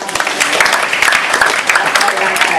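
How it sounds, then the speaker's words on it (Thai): A group of students clapping for a classmate at a school road-safety session, close and brisk, a quick uneven patter of hands with a voice speaking over it. "ขอเสียงปรบมือให้เพื่อนเราหน่อยครับ"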